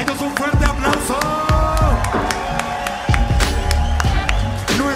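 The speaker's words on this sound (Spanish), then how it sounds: "Para ellos un fuerte aplauso." Crowd noise for freestyle rap battle performers mixes scattered clapping, cheers and whoops with a voice over it, loud and close, with sharp bursts punctuating a busy, uneven texture.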